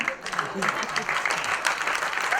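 Applause from an audience at a film trailer launch event, a steady mid-level wash of clapping that is fairly distant and continuous throughout.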